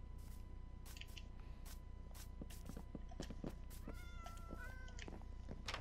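A cat meows in a secret cat room inside a video game, a few faint short calls over a quiet, busy background of soft clicks and taps with no talking.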